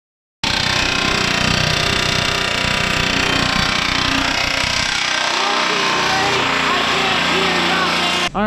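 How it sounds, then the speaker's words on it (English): A pneumatic air hammer fitted with a rounded punch drives rivets out of a Jeep Comanche frame in a garage during a wheelbase shortening job, giving a loud, continuous rapid rattling hammering whose tone drops partway through. "on the air hammer here, you just put a punch in there, just a rounded punch end, and it'll punch those through"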